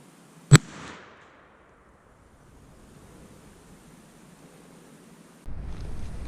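A single sharp black powder shot from an 1860 Pietta revolver cracks out loud and close, then fades into a quiet outdoor hush with faint wind noise rising near the end.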